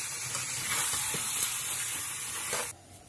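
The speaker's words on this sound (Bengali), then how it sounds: "এবার আমি এটা ভালো মজবুত চামচ দিয়ে বা খুন্তি দিয়ে নাড়াচাড়া করব।" Chicken pieces frying in hot oil for an old Dhaka-style roast, a loud close steady sizzle with faint scraping of a spatula stirring through it, cutting off abruptly near the end.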